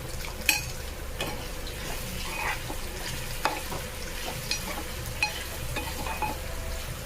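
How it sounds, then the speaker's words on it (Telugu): Onions fry in a pan with a steady moderate sizzle, while occasional spoon scrapes and stirring knocks sound close by. "బాగా వేగాలండి ఆనియన్స్. మూత పెట్టుకొని కాసేపు వేగాలి."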